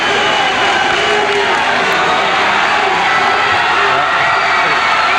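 Crowd at a 1993 high school boys basketball game between Lynn Classical and Salem roars steadily as a player enters, a dense, sustained wash of cheering throughout.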